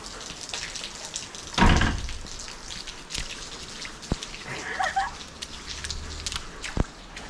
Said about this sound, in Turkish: Şu an yağmurun altındayım.